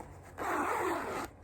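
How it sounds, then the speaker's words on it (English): A zipper on a tote project bag is pulled open in one smooth, close, steady stroke lasting about a second. "I'm going to open every one because I want to test out the zippers and make sure that they are smooth"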